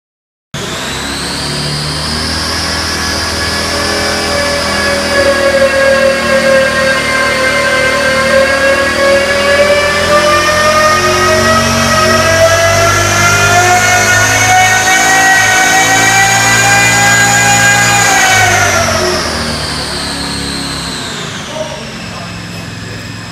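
A blown, intercooled 557 engine fitted with TMP venturiless 1050 carburetors screams on a dyno pull, a loud, steady high-rpm roar that climbs gradually for about eighteen seconds before easing off and dropping back.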